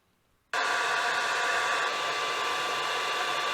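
After a moment of quiet, a hair dryer heating a part on a MINI Cooper switches on abruptly and keeps blowing with a steady, close, rushing whine.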